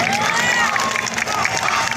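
Loud, continuous applause mixed with cheering and shouts from a crowd at a university hall prize ceremony, greeting a first-place winner, sustained throughout without speech.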